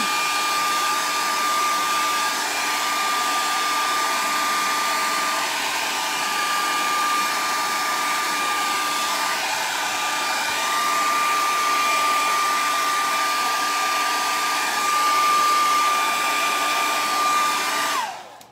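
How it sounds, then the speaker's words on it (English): A blow dryer runs steadily with a loud, constant whirring hum and high-pitched whine, continuing without a break until it switches off at the end. "Okay, here's the blow dryer."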